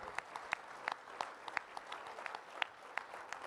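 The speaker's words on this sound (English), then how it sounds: "Let's give the entire crowd a big round of applause for their participation in the live auction here tonight." Faint crowd applause after a live auction at a gala, with sparse distinct hand claps spread across a quiet background.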